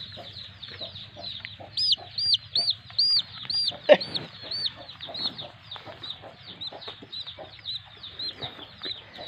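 Chickens cluck repeatedly in short, choppy bursts nearby, with scattered higher calls and a louder squawk partway through; no speech.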